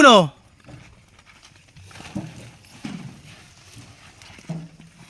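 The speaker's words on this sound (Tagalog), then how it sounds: "parating na ang isang kabayo uli" Horse hooves clip-clopping at a walking pace on hard ground, a few distinct knocks, with a loud sharp voice briefly at the start.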